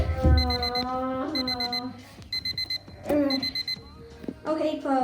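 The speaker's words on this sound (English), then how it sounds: "I turned the stupid alarm clock off" An alarm clock rings in repeated bursts of electronic beeping, loud and close, in a bedroom, with people talking faintly underneath between the bursts.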